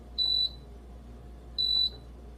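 Two short, clear electronic beeps from an electric pressure cooker being set to veggie mode for steaming cabbage, evenly spaced over a faint background hum.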